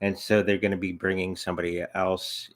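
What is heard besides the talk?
No distinct noise like a dog, phone or traffic.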